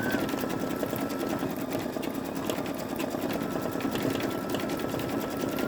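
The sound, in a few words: Babylock Esante embroidery machine stitching flowers on a towel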